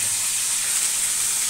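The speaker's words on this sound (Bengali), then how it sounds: "সরষে ফোড়ন দিয়ে রাখলাম" Mustard seeds sizzling in hot oil for a Bengali fish-head and pui shak curry, a steady bright frying hiss holding evenly close up and alone, with no talk.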